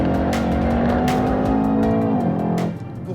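A 2017 Mercedes-AMG E 63 S accelerating hard, its engine note rising steadily as it revs toward the limiter at about 7000 rpm, then dropping off sharply near the end, loud and close with no talking.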